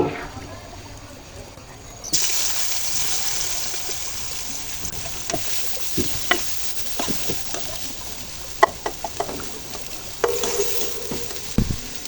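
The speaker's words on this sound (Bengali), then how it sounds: "এরপর পেঁয়াজগুলো ভেজে নেব" Onions being fried in golden oil after fish for a tomato fish curry, with a loud hiss that rises sharply as they go in, then a steady sizzle and scattered clicks of a spatula.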